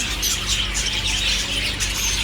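Several birds, apparently parrots, chirping and squawking in a busy indoor aviary shop, a dense continuous chatter of overlapping high calls over a low room hum, close by, no speech.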